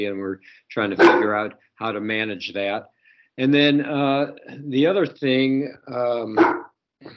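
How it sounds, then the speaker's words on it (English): A dog barks in the background while a person keeps talking, its sharp yelps mixed in with the speech. "sorry about the dog."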